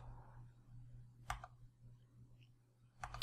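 The 0 key on a computer keyboard's numeric keypad pressed, two crisp isolated clicks about two seconds apart over a low steady hum in a quiet room.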